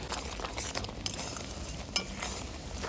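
A pan of spiced winter mixture stirred continuously over low to medium heat, a soft steady sizzle with light scraping and a couple of sharp clicks, fairly quiet and close, no talking.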